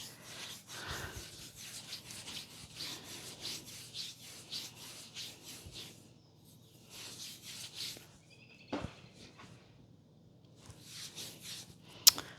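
Zinc-based homemade sunscreen being rubbed into skin: soft, repeated rasping strokes, close and steady, with brief pauses and no talking.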